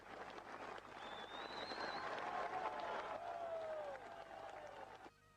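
Several thousand onlookers at an IRA funeral outside a family home cheer and applaud. The sustained crowd roar carries whistles and shouts for about five seconds before cutting off abruptly.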